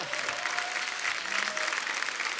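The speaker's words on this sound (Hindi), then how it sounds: "क्या बात है, जोरदार तालियां" A studio audience at an Indian comedy talk show bursts into loud, dense applause that holds steady for the whole short stretch.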